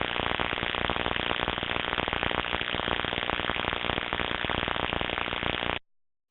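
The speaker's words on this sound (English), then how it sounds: "What we would see at this stage is possibly we may detect corona, which sounds like this." Corona discharge on electrical equipment picked up through an ultrasound inspection detector, a steady buzzing, crackling hiss with dense rapid rhythm, loud and continuous for several seconds before cutting off abruptly, with no talk.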